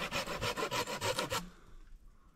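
A knife shaves wood outdoors during bushcraft, a rapid series of close, rasping scraping strokes for about a second and a half, then quiet.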